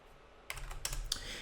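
Several quick keystrokes on a computer keyboard, entering a dimension value in Fusion 360 design software, click close up after a moment of near silence, forming a short, uneven burst of taps.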